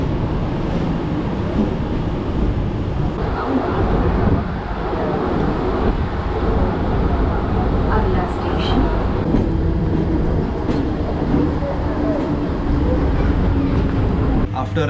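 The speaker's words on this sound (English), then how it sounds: "that's the last train for the day, which is a local train" Local train at Kasara railway station on an Indian suburban line, a steady rumbling rail noise with wind buffeting the microphone, running continuously and fairly loud throughout.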